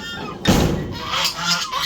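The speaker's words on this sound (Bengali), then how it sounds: "কয়েকটা রাজহাঁস আছে কয়েকটা মুরগি আছে" Geese and chickens on a poultry farm hit by a viral outbreak give a loud honk and then a few short squawks and clucks across under two seconds.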